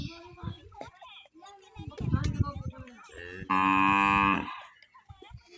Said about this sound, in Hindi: ये हमारी गाय है।